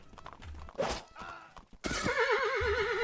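A horse neighs loudly in the video game Blood & Iron, with hoof clip-clops and rustling first, then a long wavering whinny close up at the end.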